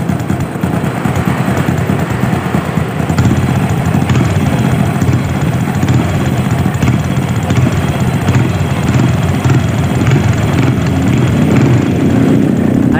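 Exhaust of a Honda Supra motorcycle running steadily at idle, a loud, close, rapid throbbing putter that holds even throughout, with no talking.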